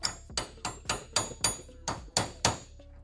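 Sharp metallic hammer blows ring out about three per second, nine strikes in a steady rhythm, close and loud, as a hammer taps out a bolt on a Toyota Tacoma.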